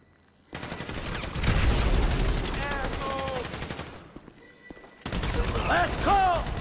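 Gunfire in a GTA V shootout during a military bank robbery, loud bursts of rapid shots with heavy crashing and shouted voices over them, a brief lull, then more shooting.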